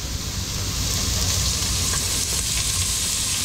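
Onions sizzle in hot oil in a pot, a loud, steady crackling fry that holds without a break.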